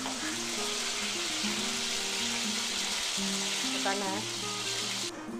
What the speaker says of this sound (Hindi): गोभी ली है, इसको अच्छे से काट के धो के साफ इसको भी फ्राई कर देते हैं।